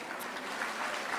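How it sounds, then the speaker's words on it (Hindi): A crowd claps steadily in a dense, continuous burst of applause during a patriotic poetry recital at a defence academy annual function. "आपका मन करे दिल से तो तालियां उठाना"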